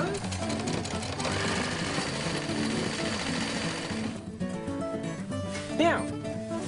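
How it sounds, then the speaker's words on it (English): A sewing machine runs continuously at a fast, steady stitching pace while it closes the drawstring casing of a fabric tote bag. It stops near the end, leaving a brief higher whine and handling sounds. "Okay, now sew this casing closed."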